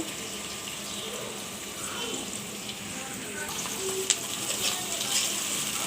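Onions and green chillies fry in mustard oil with a steady broad sizzle, close and moderately loud, marked by occasional light clinks and a brief tonal squeak near the end.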